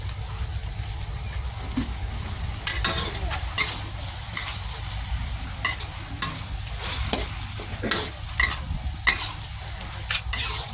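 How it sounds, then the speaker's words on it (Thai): Pork stir-fries for pad kra pao with a strong continuous sizzle and a spatula that scrapes and knocks repeatedly against the pan, close and loud. "ผัดไปจนหมูสุกนะครับ"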